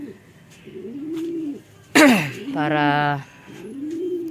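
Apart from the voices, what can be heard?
pigeons cooing in a loft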